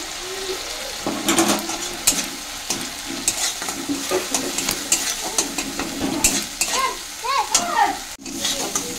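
Spice paste with a splash of water, turmeric and chili powder sizzles and bubbles in a pan while being stirred and scraped, with wet frying crackle and intermittent clatter close up.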